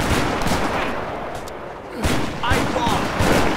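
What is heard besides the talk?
stationary cannon firing in the video game Age of Empires 3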